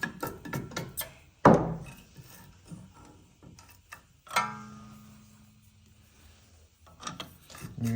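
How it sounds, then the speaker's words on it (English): Flat blade screwdriver prying the caliper off a 2017 Chevy GMC 1500 rear brake, giving a sharp metallic scrape and clunk followed by quieter scraping and shifting of parts at close range. "Get a flat blade screwdriver, stick it in there like that a little bit. Pry the caliper off."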